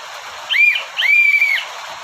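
A tour guide's two shrill whistle blasts, a short one followed by a longer one, loud and close against a steady background hiss.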